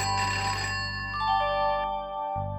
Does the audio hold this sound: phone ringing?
yes